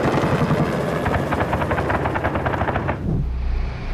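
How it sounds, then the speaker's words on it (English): Military helicopters pass close and loud during an Afghan firefight near Nadi Ali, their rotors pounding in a fast steady rhythm before the sound drops away abruptly near the end. "Helicopters were called in"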